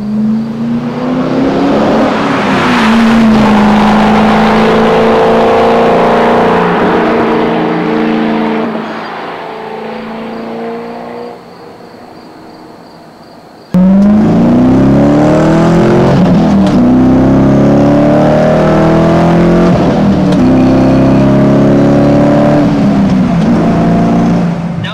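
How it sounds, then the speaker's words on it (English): A 2001 C5 Corvette with an SLP Loudmouth aftermarket exhaust revs hard, rising and falling in pitch, easing off briefly before a sudden roaring return, close and very loud. "This SLP loudmouth exhaust system on my 2001"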